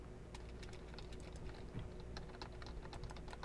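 Rapid clicking keystrokes on a computer keyboard, a steady patter of irregular taps at close range with no talking over them.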